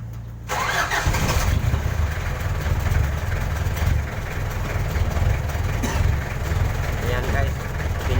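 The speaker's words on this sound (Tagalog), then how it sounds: "Inandar ko na." A vehicle's engine cranks and fires up about half a second in, then settles into a steady, loud, close idle rumble that continues to the end, with someone talking over it.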